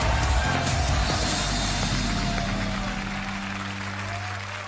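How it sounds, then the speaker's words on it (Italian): Studio audience applauding for a Jack Sparrow performer on a dating show, loud dense clapping that slowly fades, with some music and voices underneath. "Un applauso per Jack Sparrow."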